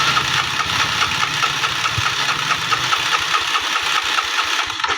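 Continuous close starter cranking of a Yamaha Mio Sporty scooter engine, a fast rhythmic chugging whir that keeps turning over without firing up.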